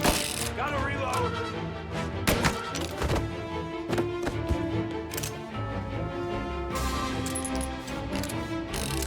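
A handgun is reloaded in Mafia: Definitive Edition, with a clatter of metallic clicks and thunks close up, mixed with game music and background noise.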